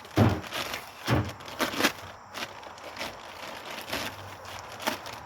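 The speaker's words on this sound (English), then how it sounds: "I'm just going to cut this bag here." A utility knife slices open a bag of refractory cement for lining a propane forge, giving a string of crisp crinkling and tearing bursts that come close and fairly loud, with quieter rustling between them.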